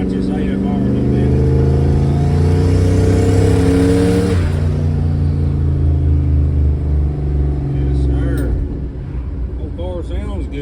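An LS-swapped Studebaker engine rumbles steadily while driving in third gear at about 10 mph, a loud low drone with a shift in pitch midway, then easing off near the end as a voice talks over it.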